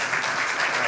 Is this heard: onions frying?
no